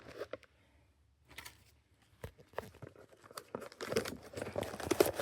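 Small stamped mini license plates are handled and slid back into their box, giving soft rustles, light clacks and scraping taps that grow busier and louder toward the end, with no talking.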